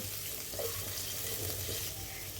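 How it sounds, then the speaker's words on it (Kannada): Chopped medium onion frying in a pan for a moong dal palya, a soft steady sizzle with faint stirring scrapes, close and quiet, no talking. "ಒಂದು ಮೀಡಿಯಂ ಗಾತ್ರದ ಈರುಳ್ಳಿಯನ್ನು ಹೆಚ್ಚಿಕೊಂಡಿದ್ದೀನಿ ಅದನ್ನು ಕೂಡ ಹಾಕಿ ಚೆನ್ನಾಗಿ ಫ್ರೈ ಮಾಡಬೇಕು"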